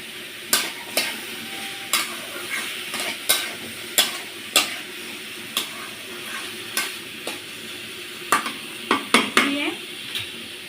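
Slit green chillies get stirred through a pan of taro stolon chorchori with masoor dal, making a steady run of sharp spatula clinks and scrapes against the metal over a faint background fry.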